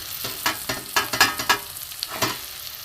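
Spice masala of turmeric, cumin, coriander powder and salt sautéed in a pan for a spicy rohu fish curry, with a steady sizzle punctuated by repeated scraping stirs, close and moderately loud.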